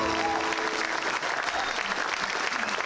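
An audience at a jubilee concert claps in a dense, steady burst of applause that fills the hall for several seconds, with no voices rising above it.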